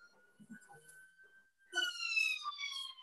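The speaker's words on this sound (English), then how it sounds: "I've got a siren going down the street." A faint siren tone holds steady, then a louder wailing siren rises in, sliding down in pitch as it passes nearby.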